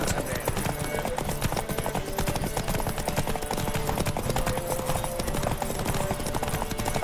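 Fast, continuous hoofbeats of a galloping horse in the video game The Witcher 3: Wild Hunt pound through a dense, rumbling wash of noise.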